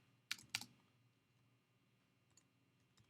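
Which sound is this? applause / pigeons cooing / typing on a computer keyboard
typing on a computer keyboard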